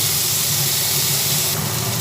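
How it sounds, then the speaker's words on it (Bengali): Tomato, onion and garlic fry together in hot oil for a Bhola fish tel jhal, giving a loud, continuous broadband sizzle that hisses steadily without pause. "টমেটোটাও একসঙ্গে দিয়ে ভেজে নিচ্ছি"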